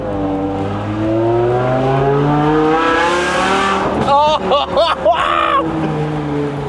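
A BMW M5 E60 with a 5-litre V10 producing 507 horsepower revs steadily, its rising engine note climbing close and loud, then short sharp throttle blips; a man exclaims briefly near the end.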